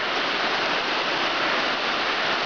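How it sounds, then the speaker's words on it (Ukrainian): Narinets waterfall pouring at close range, a steady dense broadband roar of falling water filling the whole stretch with no pauses and no voices. "Нарінецький водоспад, до якого ми так довго добиралися хащами."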